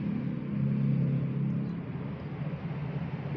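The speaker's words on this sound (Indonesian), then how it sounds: "Mobil polis alias mobil polisi" Low engine rumble of a police car, a steady idling drone with a slight swell near the start, close and fairly even throughout with no voices.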